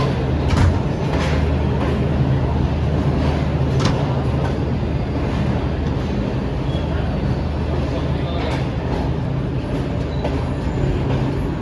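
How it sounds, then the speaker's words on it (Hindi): Shalimar Express train pulling into a platform, a steady rumbling drone of wheels and carriages with faint squeals and clanks, loud and continuous throughout. "प्लेटफॉर्म नंबर 3 पर पहुंच गई हमारी ट्रेन।"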